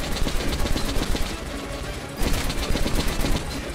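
Rapid automatic gunfire in Metro Last Light Redux, loud dense bursts of shots that break off briefly and then resume, with no talk.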